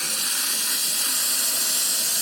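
Continuous loud hissing rush of hot water and steam flowing from a Lelit Mara X espresso machine, steady throughout with no pauses.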